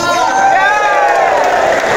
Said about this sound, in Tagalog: Palakpakan, may kasamang sigawan ng bawat isa